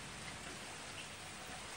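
Steady rain falling during rain therapy for a green leafbird, a dense continuous hiss of drops on surfaces, close and even throughout.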